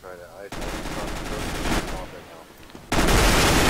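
Rapid bursts of gunfire from the video game CS:GO played on Xbox 360 ring out loud and dense, pausing briefly before a heavy final volley.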